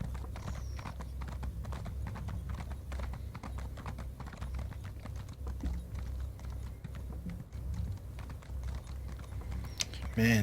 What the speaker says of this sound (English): Man, this horse is so slow.